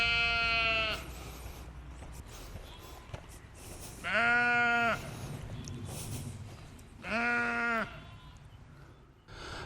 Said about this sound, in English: The amount of noise these sheep are making.